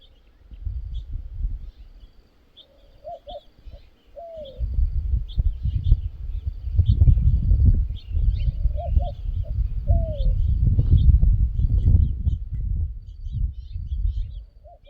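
Birds call on a ranch on a fine morning, among them a white-winged dove and house finches. Repeated cooing phrases and faint chirps sound at a moderate distance over a steady background of rustling and handling noise.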